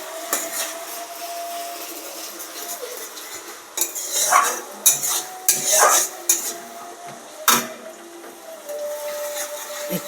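Ginger-garlic paste is stirred in a pan, with a few scraping clatters of a utensil against the metal and faint sizzling underneath. It is close and moderately loud, and nobody speaks.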